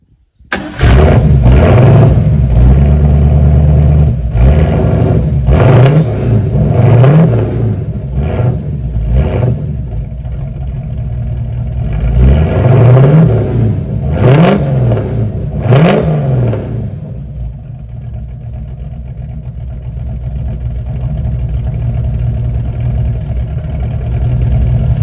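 Roadster Shop Bullitt Mustang with a freshly fitted exhaust cranks, catches and fires up close by, then barks through a string of loud rev blips before settling into a lumpy, steady idle.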